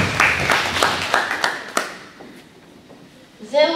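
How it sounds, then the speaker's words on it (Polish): An audience at a Kashubian folk storytelling contest applauds Marcelina, a burst of clapping that fades out over about two seconds before a voice begins speaking. "O, brawa dla Marceliny"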